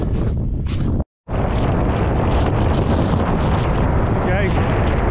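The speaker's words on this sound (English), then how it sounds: "the wind is getting up now" Strong, cold wind buffets a microphone on a high mountain ridge, a loud continuous roar with one brief dropout early on; a voice is faintly present in the gusts.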